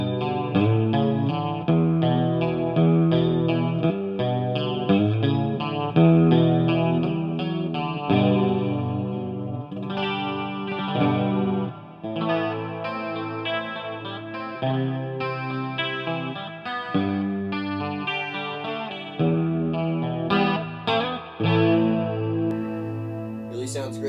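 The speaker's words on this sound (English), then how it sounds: "with a little bit of chorus and some reverb, this thing really sounds great for cleans" A clean electric guitar through a Randall RG100 amplifier plays chords and melodic lines, shimmering with chorus and a wash of reverb, loud and continuous throughout.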